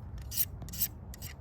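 A knife blade is drawn across a sharpener in short rasping strokes, two or three quick scrapes in a little over a second, close and dry with no voices.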